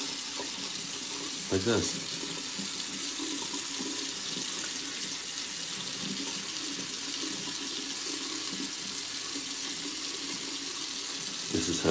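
Water runs steadily from a bathroom sink tap during a morning brush shave, a constant close hiss and splash that fills the scene, with brief speech over it.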